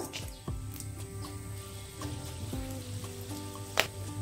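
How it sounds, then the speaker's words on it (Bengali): Whole garam masala sizzles in hot oil with a quiet, steady crackle and scattered small pops, heard close up with no one talking. "ওই তেলেই আমি দিয়ে দিচ্ছি গোটা গরম মশলা"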